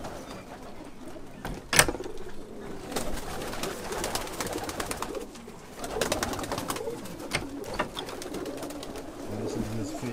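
Pigeons coo inside a New Jersey pigeon loft at a feed store, soft throaty calls repeating near and far, broken by a sharp flutter of wings and muffled knocks, with low human voices in the background.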